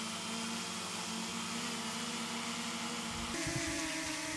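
A DJI Mini 3 drone hovers close by with a steady, whining propeller drone and a buzzing tonal hum that holds evenly, shifting slightly near the end.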